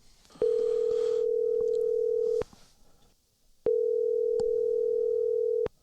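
A telephone dial tone sounds while a podcast host places a call to a guest: two long steady tones, each lasting about two seconds, separated by a short gap with faint background noise.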